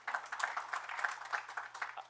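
Audience applause for a councilwoman at a public information meeting on refuse districts, a modest room of steady hand claps lasting a couple of seconds at moderate, somewhat distant level.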